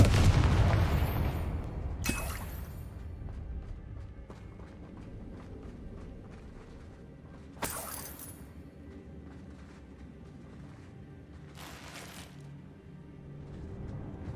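Explosive blasts in a spellcasting video game, from the Confringo blasting spell: a heavy boom at the start, then sharper cracks near two, eight and twelve seconds over a low rumbling bed, with no voices.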